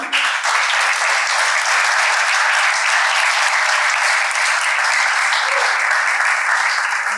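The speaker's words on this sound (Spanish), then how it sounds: "Un aplauso para la doctora." Loud, sustained audience applause after a conference talk on preserving the Spanish language, a thick even roar of many hands clapping with no gaps, close and full throughout.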